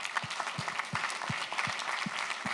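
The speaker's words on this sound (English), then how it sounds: "So an applause for them as well." An audience at an open source conference applauds the event's sponsors, a full, dense burst of clapping with a steady thumping pulse running underneath it.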